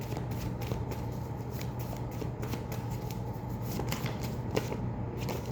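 Tarot cards being shuffled in a steady riffling flutter that runs throughout, near and moderately loud over a constant low hum, with no talking.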